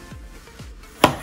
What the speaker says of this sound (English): If you want to get a lot, you can get up to 10 slices out of each lime.